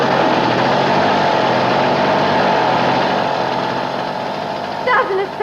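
A motorbike engine runs steadily nearby with a low, even drone, and a brief voice is heard at the very end.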